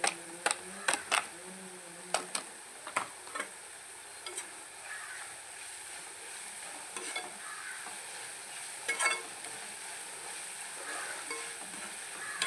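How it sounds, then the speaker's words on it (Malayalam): Fish fries in hot oil for a fish pickle, a soft continuous sizzle under a quick run of spatula taps and scrapes at the start, thinning to occasional clinks as the frying carries on. "എണ്ണ കിടന്ന് ഇതൊന്ന് മൂത്ത് തരട്ടെ"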